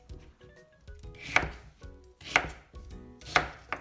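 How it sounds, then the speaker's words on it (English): A knife cuts white radish into bite-sized pieces on a cutting board, giving three crisp, sharp chops about a second apart, with faint handling noises between them and no talk. "the rest I'm going to put it in half and cut it into, just about bite-sized pieces"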